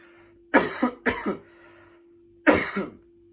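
Three sharp coughs from a dry throat burst out close by, two in quick succession and a third after a pause, over a faint steady hum.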